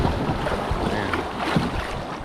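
A kayak plows through river rapids on a Texas river, with steady loud rushing water and wind buffeting the microphone throughout, a dense continuous roar close by.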